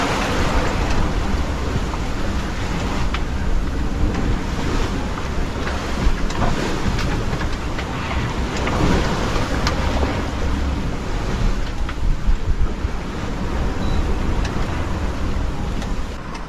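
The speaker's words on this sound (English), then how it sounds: "Waves have got really steep within the last half an hour. We're struggling a little bit, keep hitting them." Steep ocean waves strike a sailing boat at sea on a passage from Tonga to New Zealand. A loud, continuous roar of wind and rushing water carries on throughout, with repeated surging slaps and no voices.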